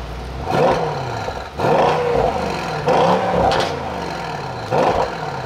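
A 2019 Mercedes S-Class AMG S63 engine rumbles steadily, heard from outside, with four periodic surges as it revs up and settles back, close and fairly loud.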